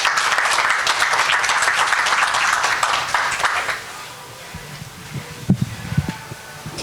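Audience applause at a Baltimore County Chamber of Commerce member breakfast, a dense wash of clapping for the first few seconds that fades out, followed by faint room noise and a few scattered knocks.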